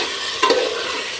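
Chicken sukka frying in oil in a pan, a steady sizzle with a brief scrape of a spoon stirring through it midway, close and fairly loud.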